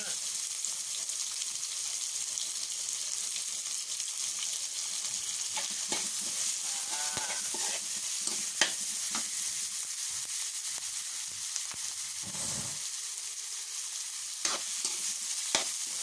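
Minced pork mixed with fat stir-frying with chili in a pan sizzles steadily for a long stretch, with intermittent scrapes and clacks of a spatula, close-up and moderately quiet.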